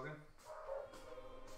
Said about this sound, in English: My dog just goes out the back and just goes mad.